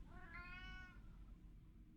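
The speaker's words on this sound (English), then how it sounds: "Okay, the cat is just chilling." A cat in a horror puzzle video game gives a single clear, rising-and-falling meow lasting about a second over a low, steady ambient background.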